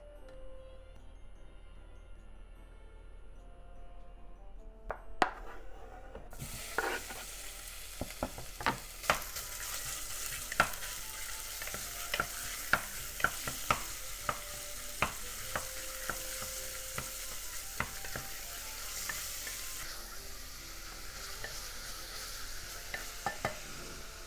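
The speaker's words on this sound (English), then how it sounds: "Heat up sesame oil in the pot and let's cook the pork first." Pork sizzles in hot sesame oil in a pot, a steady close frying hiss that jumps in partway through, punctuated by frequent sharp clicks and scrapes of stirring utensils against the pot.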